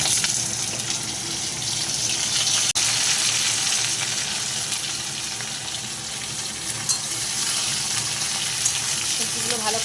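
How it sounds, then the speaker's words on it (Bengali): Vegetables for a bottle gourd curry with raw lentil fritters frying in hot oil, a loud, continuous close sizzle with faint stirring, and someone talking over it. "এইভাবে তেল আমার গরম হয়ে গেছে, ছেড়ে দেবো সবজিগুলো।"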